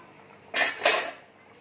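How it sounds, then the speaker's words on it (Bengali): A metal lid comes off a cooking pot in two quick, bright clanks about a third of a second apart, close and clear against a quiet room. "এবার দেখো, ঢাকাটা খুলে নিচ্ছি আমি।"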